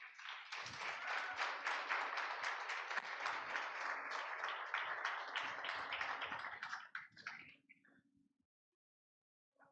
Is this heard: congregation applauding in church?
yes